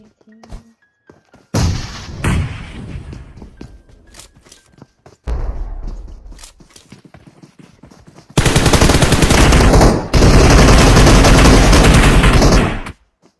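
Bursts of automatic gunfire from PUBG Mobile, with close rapid volleys, short pauses and quieter scattered shots, sharp and loud throughout.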